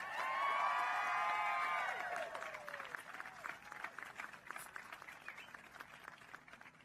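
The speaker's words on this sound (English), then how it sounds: "Let's give them a round of applause." Crowd applause at a gun safety advocates' rally in Washington, D.C., a sustained wash of clapping with cheers and whoops, loudest at first and tapering to lighter scattered claps.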